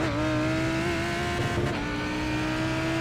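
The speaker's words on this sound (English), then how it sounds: "Watch your mirrors, there's a car approaching." GT race car in a racing video game, at Phillip Island: a loud, steady engine drone heard close up, holding a constant pitch for a few seconds with faint tire noise, and no voices.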